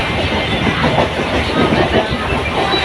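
Inside a moving local train in Malad, Mumbai, a loud, continuous rumble of carriage and rail noise carries a faint rhythmic clatter of wheels over track joints throughout, with no clear speech.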